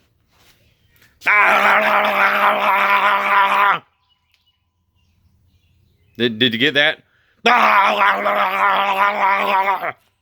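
A person mimics an engine noise with a drawn-out groaning voice in two bursts, separated by a short spoken question.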